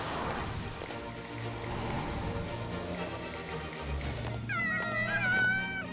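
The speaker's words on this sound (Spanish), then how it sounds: "¡Gatos! ¡Cuidado! ¡Yo me encargo!" Cartoon cats meow toward the end, a cluster of high, overlapping calls rising over a steady hiss of background noise and low rumbling.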